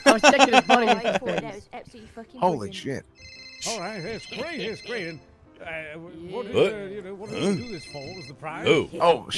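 A mobile phone ringtone breaks in with a repeating, bright electronic tone pattern. Lively talk and chuckling run over and around the ringing.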